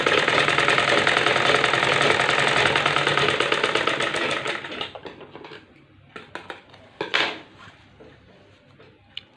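A sewing machine stitches a lining blouse with a loud, fast, steady mechanical whir for about four seconds, then stops, followed by a few scattered clicks and handling taps.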